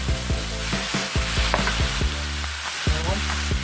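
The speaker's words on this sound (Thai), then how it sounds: "จับเทไปให้หมดเลยนะครับนี่ครับแล้วเราก็ผัดไปเลยนะครับ" Two cans of fish are stir-fried with chili paste in a hot pan. There is a loud, continuous sizzle, with repeated scraping strokes of the spatula at a quick, uneven rhythm.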